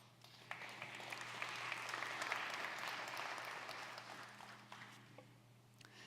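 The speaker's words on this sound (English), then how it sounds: "So applause." A conference audience breaks into sustained applause, many hands clapping in a broad, faint wash that builds, holds and then thins out, with a low steady hum underneath.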